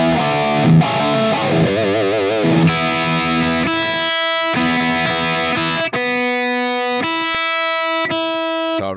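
High-gain distorted electric guitar through an amp modeled on a Bogner Ubershall and its cabinet, dry with no reverb, playing chugging riffs and then sustained ringing notes and chords.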